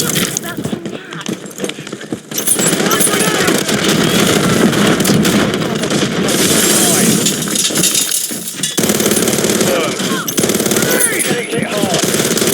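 Dense, loud gunfire and explosions from Call of Duty Modern Warfare 3 multiplayer, with rapid rattling bursts running almost nonstop under talking voices.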